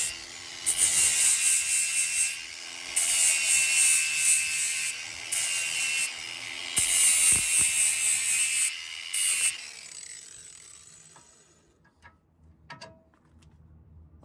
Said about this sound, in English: I just touched it with that sanding disc and just made it to where there's clearance